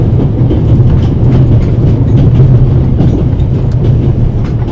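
The Orient Express train from the video game The Raven, running between Paris and Istanbul, rumbles in a steady, loud, continuous roll with rhythmic clickety-clack of wheels on the rails, heard alone.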